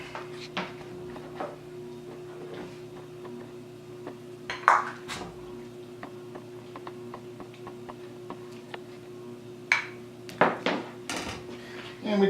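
Seafood chowder being ladled and plated, with scattered clinks of dishes and cutlery, a few sharper knocks and taps over a steady low kitchen hum, no talking.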